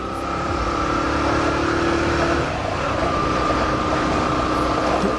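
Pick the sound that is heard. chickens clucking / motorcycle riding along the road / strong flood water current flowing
motorcycle riding along the road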